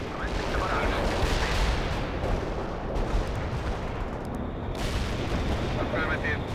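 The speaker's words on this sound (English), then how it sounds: "Commencing the barrage." Artillery barrage in the strategy game World in Conflict, a dense continuous roar of overlapping booms and explosions, loud and sustained throughout with no clear gaps.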